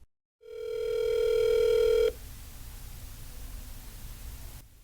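A telephone network tone for a number no longer in service: a steady electronic beep held for under two seconds, then a faint hiss of open line that continues alone before cutting off.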